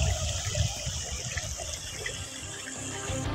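Floodwater swamping a wide area in Punjab, a continuous rushing, splashing wash of moving water, fairly loud and steady with no voices.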